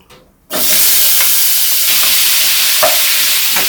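Potatoes drop into hot oil in a kadai with a sudden loud onset after a brief quiet moment, then a steady, dense sizzle and crackle continues close by with small pops, no talking.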